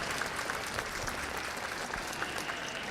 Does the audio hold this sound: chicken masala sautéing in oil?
no